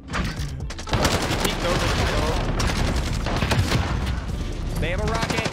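Constant heavy gunfire from the video game Modern Warfare, dense overlapping shots and explosions filling the whole stretch at high volume, with voices talking underneath.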